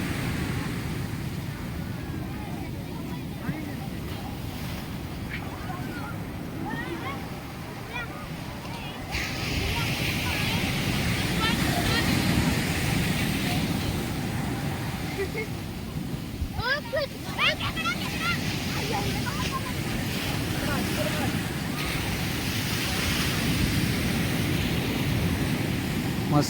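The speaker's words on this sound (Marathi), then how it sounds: "देवगड पवनचक्कीच्या बाजूचा समुद्र किनारा आणि आजूबाजूचा व्ह्यू." Sea waves wash steadily onto a beach beside the Devgad windmills, a broad continuous rush mixed with wind buffeting the microphone, with voices talking now and then.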